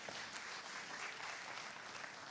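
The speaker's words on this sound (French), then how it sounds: "Merci de l'applaudir à nouveau" An audience at a Benin lottery draw ceremony applauds a young virtuoso performer again, producing a steady, fairly faint wash of continuous clapping with no break.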